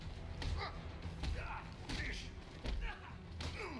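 Combat punches land on thugs in the Batman: Arkham Knight video game, a series of heavy thuds and smacking hits in quick irregular succession, with a voice talking faintly underneath.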